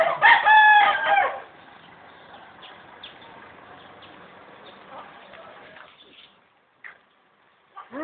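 Chickens and roosters in Chiang Rai crow loudly at the start, followed by softer ongoing clucking and faint bird sounds that fade out, with a few quiet distant noises near the end.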